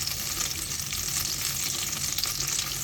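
Olive oil and butter sizzle steadily in a non-stick sauté pan, a close, continuous crackling fry with no voices.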